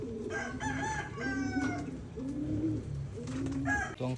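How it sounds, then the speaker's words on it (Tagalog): Racing pigeons coo and call near a loft in a series of short, repeated throaty bursts, fairly close and moderately loud, with overlapping bird sounds in the background. "Tuwang-tuwa lang yan makalabas mga kalapatids."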